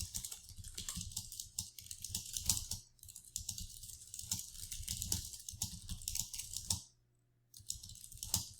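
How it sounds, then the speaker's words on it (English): Rapid bursts of typing on a computer keyboard, close and clicky, with short pauses and one longer silent gap before the keystrokes resume. "So I'm just going to type in 123 and see what comes up."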